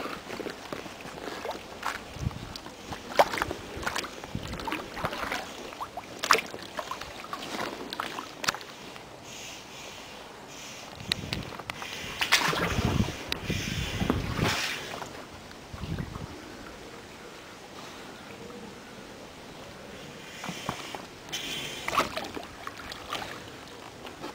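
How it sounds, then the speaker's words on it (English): One-handed paddling of a Sevylor Colorado inflatable canoe on a Thames backwater, with irregular close splashes and dips of the paddle in the water over light wind noise, no talking. "So here I go, doing my famous one-handed paddle."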